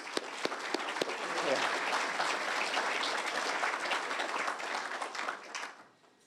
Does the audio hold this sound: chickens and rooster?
no